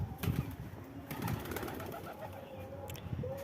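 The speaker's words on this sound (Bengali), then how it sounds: "এই যে আমার নতুন কবুতরের ঘর বানাইছি বন্ধুরা এই যে এই যে সব কবুতর" Pigeons softly cooing in a newly built loft at a home in Jangipur, Murshidabad: quiet, overlapping low coos with a few sharper calls and light rustling.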